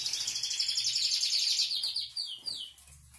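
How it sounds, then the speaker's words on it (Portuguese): Caged canaries, including a deep golden-yellow one, sing in a steady stream of bright, rapid chirps and trills, close and fairly loud, with no talk over them. "Então, os canários estão tudo cantando."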